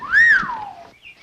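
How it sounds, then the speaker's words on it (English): A man's wolf whistle rises then falls in one bright, clear sweep, close and loud, followed by a faint short tail. "Maybe he was whistling at you, Mom."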